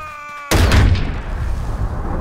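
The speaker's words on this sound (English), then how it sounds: "Attack that boom cannon!" A cannon beside a bunker fires one sudden, loud, close blast, and its broad rumble decays slowly over the next two seconds.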